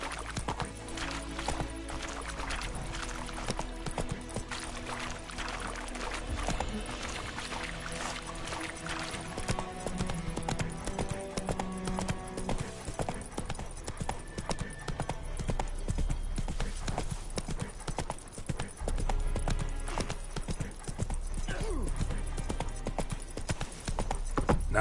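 Roach the horse galloping in The Witcher 3, with steady rapid hoof clip-clop running under dense game music and ambience throughout.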